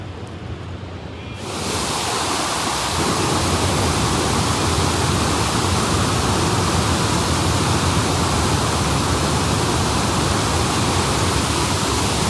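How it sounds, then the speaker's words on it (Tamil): A waterfall pours steadily along a walking path, a loud, continuous broadband rush of falling water that swells in within the first seconds and holds close and unbroken, with no voices. "அந்த நான் நடந்து கொண்டு போன அந்த இடத்துல வர்ற தண்ணி எல்லாம் பாருங்க, இந்த இடத்தால தான் அருவியாக விழுந்து போகுது."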